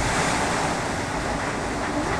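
Strong typhoon wind and rain during Typhoon Odette, a loud, unbroken roaring rush of gusting wind and downpour that fills the whole clip.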